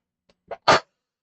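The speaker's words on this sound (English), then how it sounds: "Bless me. I have the sneezes." A single short sneeze, preceded by a quick intake of breath, close and fairly loud against silence.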